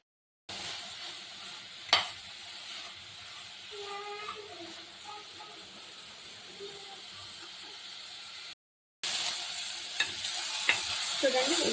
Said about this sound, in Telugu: ఇవన్నీ బాగా కొద్దిగా ఫ్రై అవ్వాలి.